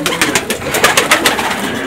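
Caged pigeons kept by a pigeon fancier coo in close, rapid, throaty bursts that repeat without pause through a short stretch, loud and near, with no talking over them.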